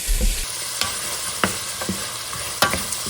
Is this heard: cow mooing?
no